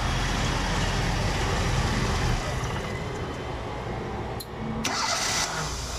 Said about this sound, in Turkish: bir gaz vermeden marş basalım